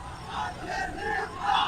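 A large crowd at a political rally chants and shouts slogans in rising, rhythmic surges, loud and massed, swelling toward the end.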